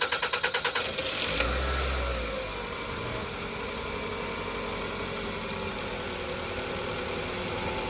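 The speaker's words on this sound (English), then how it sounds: "The engine is running." A Toyota Highlander engine catches after a few cranking pulses, revs briefly, then settles into a steady, close idle hum.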